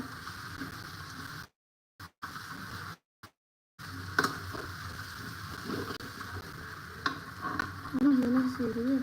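Chicken curry frying in a pan as it is stirred, a steady sizzle with scraping spoon strokes, broken by brief dropouts early on and growing busier toward the end.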